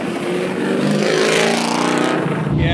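A Chevy Camaro with a 700-horsepower LS7 V8 and a six-speed transmission drives hard, its loud, rough engine holding a sustained roar that rises and falls as it revs, heard up close.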